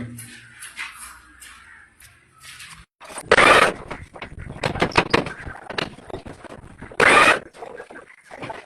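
A drilling machine fitted with a 4-inch bit bores holes: scraping, rattling mechanical noise rises into two loud, harsh grinding bursts several seconds apart, close by with no talk.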